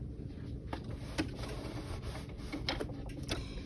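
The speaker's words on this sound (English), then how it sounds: "at the sewing machine, I have my stitch length of 2, and I'm going to start sewing" A sewing machine stitching binding on a quilted potholder at a short stitch length: a steady close mechanical whir with a dense rapid needle rhythm and a few sharper clicks, with no talking.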